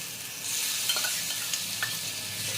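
Salt-marinated chicken pieces hit a hot pan and sizzle, a bright hiss that starts suddenly and continues with a few clinks of stirring, close and fairly quiet.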